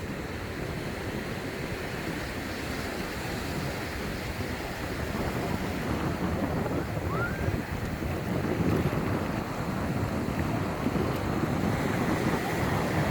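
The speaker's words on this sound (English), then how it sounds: "Beautiful Varadero Beach" Wind and waves rush at Varadero Beach, Cuba, as a loud, continuous roar with heavy wind buffeting on the microphone.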